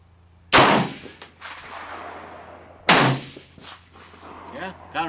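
Two sharp, loud gunshots from an M1A National Match rifle at an outdoor range, each ringing out with a decaying echo, a few seconds apart; a voice speaks quietly between them.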